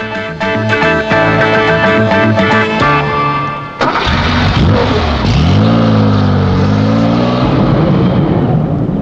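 A 1973-era Porsche car engine, loud and close: a steady idle, then an abrupt burst of revving with the pitch dipping, rising and holding high.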